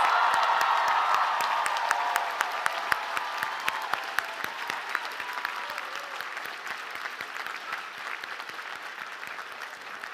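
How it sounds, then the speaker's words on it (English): Crowd applause for graduates at the Agnes Scott College 2022 commencement, dense clapping with some cheering that starts loud and slowly thins, with sharp individual claps standing out. "Giving them a round of applause"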